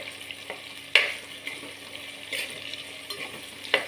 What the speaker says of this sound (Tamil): சிக்கன் வறுக்க தான் கொஞ்சம் நேரம் ஆகுது.